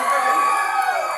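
An audience at a 2024 Queen of Rosario pageant in the Philippines breaks into loud, sustained cheering and shouting, with a dense wash of crowd noise throughout.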